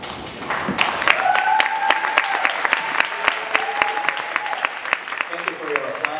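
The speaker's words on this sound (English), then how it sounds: "Thank you for your applause." An audience at a school band concert applauds with steady, fairly close clapping throughout, while a voice speaks over it.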